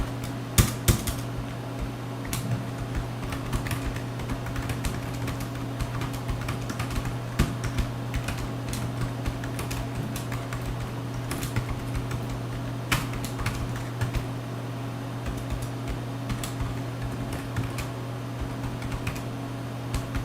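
Steady stretch of typing on a computer keyboard while writing an email beside an older Sun UltraSPARC workstation, close, fast irregular key clicks running continuously with no talking over a low electrical hum.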